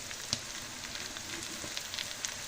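Boiled vegetables and rice frying in a pan for restaurant-style fried rice, a steady close sizzle with occasional sharp pops and light stirring scrapes.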